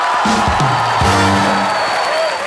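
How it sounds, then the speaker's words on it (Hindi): A studio audience at a Hindi comedy show erupts in loud cheering and applause, with whoops and shouted voices over a steady roar of crowd noise. "जोरदार तालियां उनके लिए।"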